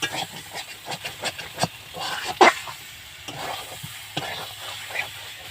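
Potatoes and spices sautéing with salt in a pan for a Bengali new-potato dish, a steady close sizzle broken by irregular scraping stirs, with no one talking.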